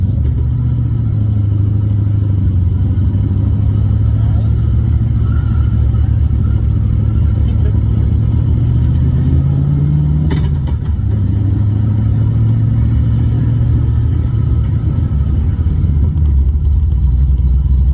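A 2014 GT500 with a T56 gearbox rolls along under its own power, its engine a steady, close, low drone that swells briefly around the middle before settling back to an even hum; no one speaks.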